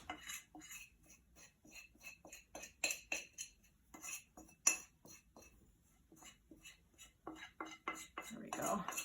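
A spoon scrapes and clinks against a bowl while pulling out sticky challah dough, giving a quiet, uneven series of close scrapes and taps.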